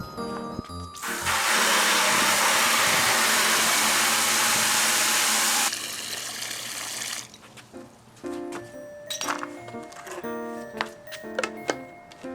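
Water gushes loudly and steadily into a bucket for a chicken waterer for about five seconds, then stops, leaving scattered clinks, drips and handling noises close by.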